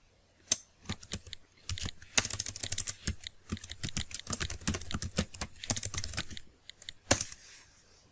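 Quick bursts of typing on a computer keyboard, crisp clustered keystrokes with brief pauses between runs, close and fairly quiet.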